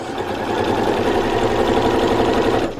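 A sewing machine runs steadily, stitching a 1 centimetre seam allowance after the presser foot is lowered at a sharp corner. Its loud, fast mechanical rhythm continues without a break and stops abruptly at the end.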